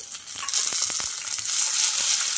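Carrot and tomato pieces frying with onions in a pan, a steady close sizzle with brief crackles and stirring scrapes throughout, no voices.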